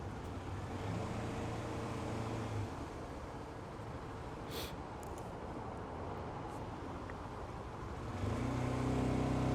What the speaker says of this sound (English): I'm actually kind of surprised there's traffic here.